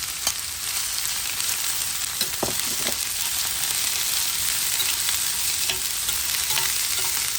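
Small chopped onion frying in a pan for a Konkani fish thali dish, heard as a loud, bright, steady sizzle with occasional scraping stir strokes, close up and without speech.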